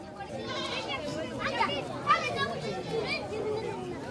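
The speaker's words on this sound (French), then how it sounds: "Dans un premier temps, il faut vendre les chèvres." Goats bleating at a desert market where women sell their herd, several scattered bleats under steady crowd chatter, children's voices and a narrator speaking over them.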